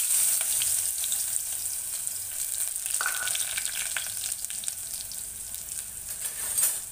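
Chopped onion frying in hot oil as a tempering for red Karli fish curry, a loud continuous hissing sizzle that holds steady throughout, close up with no talking.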